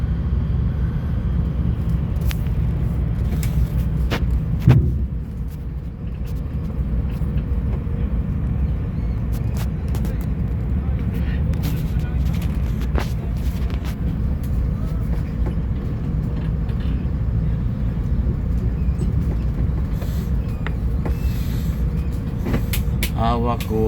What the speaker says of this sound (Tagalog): Bus pa lang sakay nito.